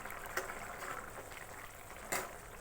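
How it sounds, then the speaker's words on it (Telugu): Curry gravy bubbling at a steady boil under a lid in a covered pot, a soft continuous hiss and simmer with a couple of brief lid rattles or pops, fairly faint and with no one talking. "ముక్కలు కూడా చక్కగా ఉడికాయి, పులుసు మరిగింది. ఇంకొంచెం మరగాలి."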